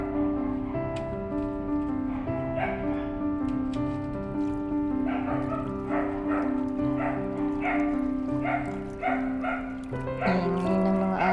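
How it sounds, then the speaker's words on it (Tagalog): A neighbour's dogs barking in repeated bursts at a distance over a steady droning background, the yaps spaced irregularly throughout. "Ang ingay ng mga aso ng kapitbahay"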